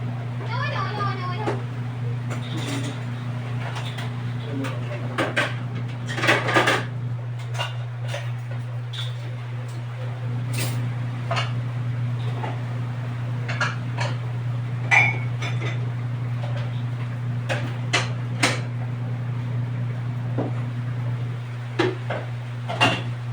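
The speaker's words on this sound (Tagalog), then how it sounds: "edi ako'y naghuhugas na din ng mga plato" Clinks and clatter of plates and dishes being washed by hand in a home kitchen, scattered irregular knocks over a steady low hum, with a person talking now and then.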